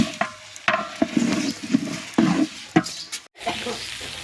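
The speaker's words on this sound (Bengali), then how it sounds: "এখন হচ্ছে ভালো করে ভেজে নিব চালটা।" Rice being fried and stirred in a pot in a home kitchen: a soft sizzle under repeated scraping and clacking stirring strokes, close and moderately quiet, with no talking.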